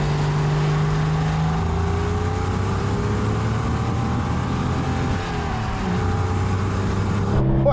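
A 28-year-old Porsche 911 993 Carrera 4S with four-wheel drive accelerating hard, a loud, sustained engine roar with rising tones through the gears and wind noise, heard from inside the car.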